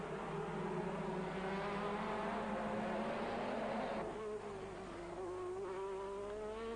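Formula 1 race cars from 1985 howl through the Monza chicane at the end of the long straight, with loud, continuous high-pitched engine whine that shifts pitch as they brake and change down, steady and close throughout.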